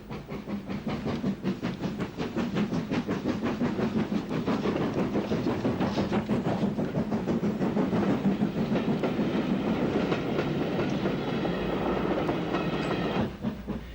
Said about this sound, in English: Mogul number 99, King George VI, powers a special goods from Portadown, near Pomeroy